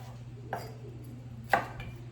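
Two sharp knife chops cutting vegetables into strips land on a cutting board about a second apart, over a quiet steady background hum.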